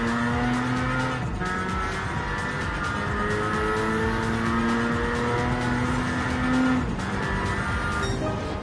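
Race car engines in Gran Turismo 7, several cars droning and whining at high revs together, steady and loud with shifting pitch as gears change, a brief tire squeal in the mix.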